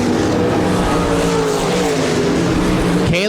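IMCA RaceSaver sprint cars roar around the dirt oval at Park Jefferson Speedway, a loud, continuous engine drone with shifting pitch as the field races close by.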